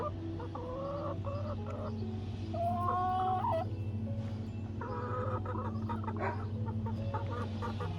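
Easter egger and barred rock hens clucking close by, several short rising chirps and clucks scattered over a steady low hum, no talk.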